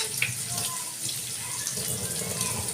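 Running tap water splashes steadily over fish being washed in a kitchen sink, a soft continuous gush with faint handling sounds.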